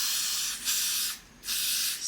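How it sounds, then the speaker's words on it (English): Aerosol spray can hissing onto a deep wave wig during an install, two sustained bursts with a short pause between, close and fairly loud with no talking. "Then I'm gonna spray."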